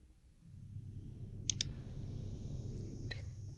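A few crisp computer mouse clicks on a Windows PC: a quick double click, then a single click a moment later, faint and close over a low room hum.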